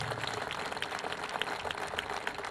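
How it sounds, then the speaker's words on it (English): A crowd applauds Congressman Aaron Schock at a VA clinic event, steady dense clapping that holds throughout at moderate loudness with a low background hum. "Round of applause for our Congressman Aaron Schock"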